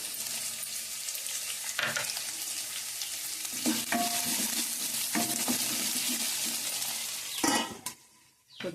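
Onions with a pinch of salt sauté in a pan with a continuous crackling sizzle, broken by several scraping stirs of a spatula before the sound briefly drops away near the end; no one talks.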